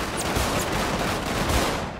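Dense, sustained gunfire in GTA 5 roleplay, a continuous loud wash of rapid shots that holds steady for about two seconds with no clear gaps between them.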